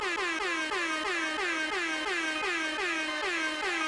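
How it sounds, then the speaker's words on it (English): Air horn sound effect played in a podcast intro, a loud blaring horn repeated in quick rhythmic blasts about three times per second, with each blast bending downward in pitch. "An abundance of air horns on the way in."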